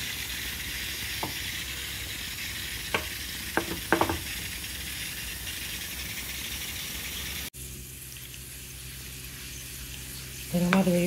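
Curry leaves frying in hot oil for an amla pickle, a steady loud sizzling hiss with a few sharp pops, dropping briefly before a fresh burst of crackling as more goes into the pan, no talking.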